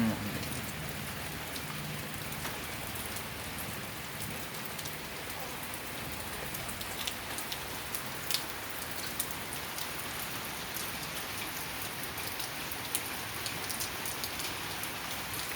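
Steady rain patters on surfaces nearby, a constant hiss broken by scattered louder drips.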